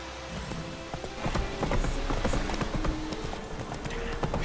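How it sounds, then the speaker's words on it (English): Horse hooves clip-clop in a steady gallop in The Witcher 3, rhythmic and fairly close over a constant background bed of game ambience. "Not so fast, Roach."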